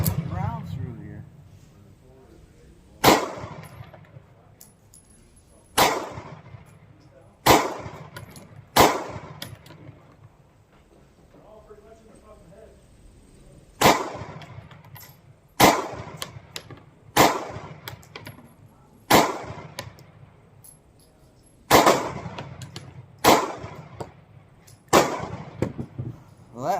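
Repeated pistol shots from a Sig Sauer P365 fired outdoors at a steel target, about a dozen sharp loud cracks in irregular spaced pairs and singles, each with a brief ringing tail, over low background noise.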